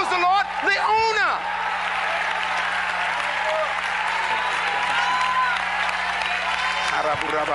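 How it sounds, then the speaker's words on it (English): A church congregation claps their hands during a sermon, a loud sustained rush of clapping mixed with shouts and cheers, with a preacher's voice rising over it at the start. "Clap your hands, who? All ye people"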